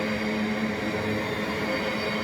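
A ten-car class 707 passenger train passes Raynes Park station, its steady loud roar and faint wheel squeal filling the whole stretch with no talk.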